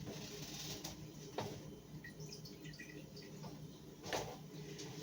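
Water runs steadily from a tap with a soft hiss, a few light drips and clinks breaking through, close by.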